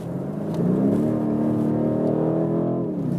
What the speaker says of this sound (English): You have more throttle input then, direct response, and the acceleration is really brutal.